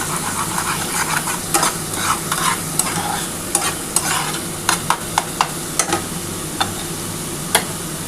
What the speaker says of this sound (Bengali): এবার ভালো করে একটু নাড়াচাড়া করে নিচ্ছি।